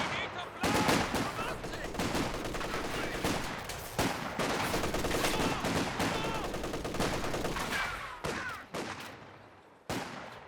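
Machine gun fire and other gunshots in Company of Heroes 2 crackle in rapid, repeated bursts, mixed with scattered blasts, and keep going for most of the stretch before fading near the end.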